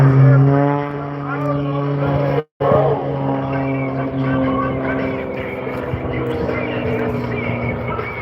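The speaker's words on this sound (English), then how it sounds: "Look at the maneuverability of this aircraft." Aerobatic propeller airplane performing at a raceway airshow, its engine droning loud and steady with shifting pitch as it maneuvers, briefly cutting out for a moment before resuming.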